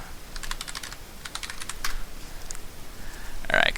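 Rapid clicky keystrokes on a computer keyboard come in short bursts with brief pauses, fairly close, ending in a louder final clatter.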